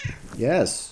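A pet cat gives a single clear meow with a rising then falling pitch, close and fairly loud, alongside a brief spoken word.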